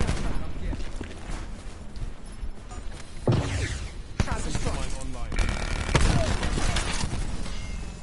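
Gunfire in the video game Call of Duty Black Ops 4, zombie and multiplayer modes, comes as bursts and single shots over loud in-game noise. A player talks over the shooting.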